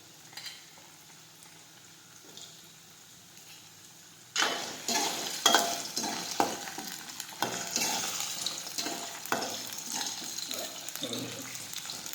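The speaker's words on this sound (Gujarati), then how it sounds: "હવે આપણે થોડી વાર સાતળીશું" Chopped potatoes hit hot oil already seasoned with mustard seeds, cumin and asafoetida. A quiet pause gives way to a sudden loud, steady sizzle, broken by stirring scrapes and crackles, for a potato, okra and tomato shak.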